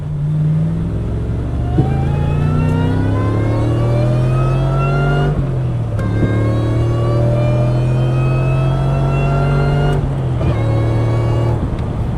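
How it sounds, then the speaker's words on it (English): Supercharged 4.6-liter 2003 Ford Mustang Cobra convertible accelerating through gears, with rising engine harmonics and a high supercharger whine climbing in pitch, brief shift breaks around each gear change, loud and continuous from inside the car. "That supercharger whine, again, I'm telling y'all, I know it sounds good in the video, but it just sounds menacing in person"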